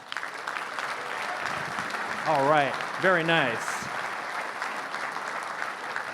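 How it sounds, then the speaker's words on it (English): An audience applauds to welcome a speaker to the stage, continuous clapping running underneath as someone speaks briefly in the middle. "Let's give him a big round of applause."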